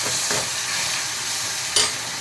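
Boiled chickpeas and ground coriander, cumin and whole cumin sauté in a hot tempering, giving a continuous sizzle broken by a couple of brief stirring scrapes, close and unaccompanied by voices.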